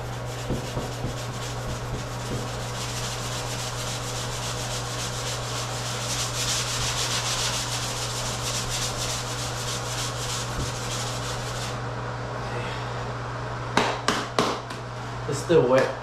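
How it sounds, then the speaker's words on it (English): Sandpaper rubs steadily over a large drywall repair patch in a continuous close scratchy rasp, with a low steady hum beneath, then a few knocks and bumps near the end. "sand it a little bit more"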